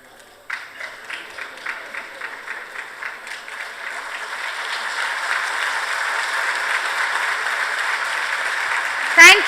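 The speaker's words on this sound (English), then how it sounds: "a big round of applause from Miss Dang Tui Zhong." Applause at an award ceremony during a disaster-risk conference closing, starting with a few scattered claps that build into steady crowd clapping, ending with a short loud burst.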